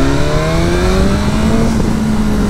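A BMW S 1000R motorcycle engine revs hard and close, a steady rising roar with climbing harmonic whine, loud and alone.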